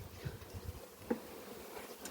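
Low, soft buzzing of Carniolan honey bees close by in an automatic hive, a steady hum with faint rustling and no voices.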